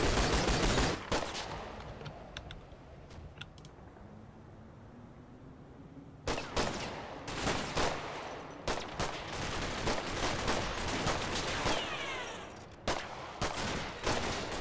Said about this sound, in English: Might be a grease gun.